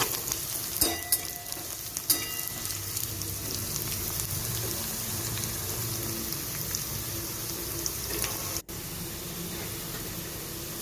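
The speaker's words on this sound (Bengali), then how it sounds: "রসুন কুচিটাও আমি খুব ভালো মতো ভেজে নিলাম" Chopped garlic and onion fry in a pan with a steady, close crackling sizzle throughout, broken by a few sharp clinks of stirring early on and a brief dropout near the end.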